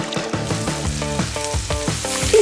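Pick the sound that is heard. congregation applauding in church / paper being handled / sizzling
sizzling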